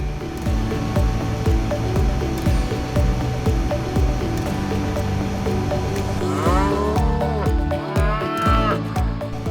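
Cattle moo repeatedly inside a climate-controlled livestock transport cabin, with several overlapping calls, some drawn out and rising, heard over a steady loud ventilation hum.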